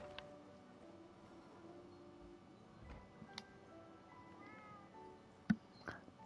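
A cat meows faintly inside a Genshin Impact teapot realm, a brief soft call standing out from a quiet ambient game backdrop with a few small clicks.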